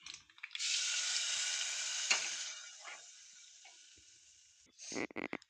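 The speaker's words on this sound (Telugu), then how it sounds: "తాలింపు వేగిపోయింది పప్పులో వేసేసుకోవాలి" Hot oil with fried tempering seeds is poured into cooked dal with bottle gourd, bursting into a loud close hiss that slowly fades over several seconds, followed by a few quick clinks and scrapes.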